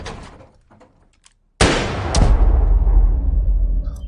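A single loud gunshot in the 2015 Korean film Assassination cracks out abruptly after quiet, faint sounds, followed by a brief second bang and a long, rumbling decay.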